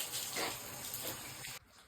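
A hose sprays water steadily while a pony is washed outdoors, a soft, continuous hiss that cuts off abruptly near the end.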